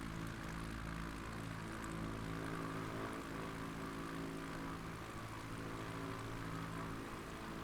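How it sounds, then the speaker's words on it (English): An experimental propeller plane's engine drones steadily and loudly through a takeoff climb, a constant near roar with a steady low hum and no pauses or speech. "In this plane, we do not need a full throttle. Very powerful."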